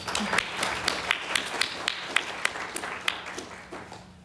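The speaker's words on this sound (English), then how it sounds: "You can clap." A few students clap in an uneven, sparse rhythm for several seconds, distinct individual claps fairly faint and gradually fading out.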